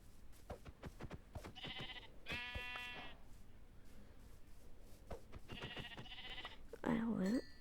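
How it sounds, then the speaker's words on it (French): Sheep in a survival video game let out several loud, wavering bleats in separate bursts, with someone talking quietly between them. "Ah, des moutons."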